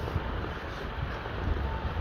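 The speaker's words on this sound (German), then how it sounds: "Es ist gut windig, aber das macht ja nichts." Steady outdoor wind buffeting a microphone, a continuous broadband rumble that stays loud and even from start to finish, with no voices.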